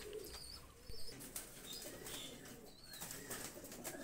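Pakistani flying pigeons coo softly in a low, repeated rolling call, with occasional wing flutters and faint chirps nearby at a quiet level.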